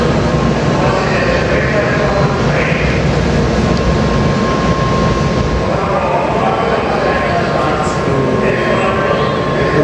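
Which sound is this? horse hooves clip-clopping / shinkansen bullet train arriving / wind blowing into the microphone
shinkansen bullet train arriving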